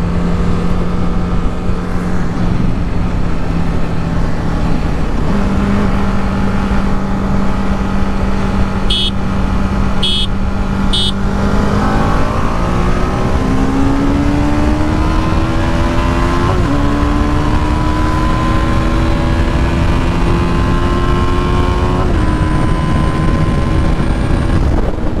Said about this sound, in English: both these bikes are accelerating at the same pace